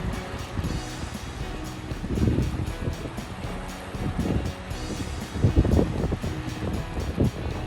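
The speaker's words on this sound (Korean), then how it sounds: "이 앞에서 가까이서 들리는 파도 소리 한번 들어볼게요" Sea waves wash in at Jumunjin port on a breezy day, surging in several soft swells with rushing wind noise against the microphone, close by and without talk.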